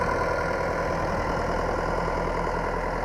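A tractor engine runs steadily at about 1200 rpm in first low gear while planting potatoes, a loud, continuous mechanical drone with a low chugging rhythm close by, no voices.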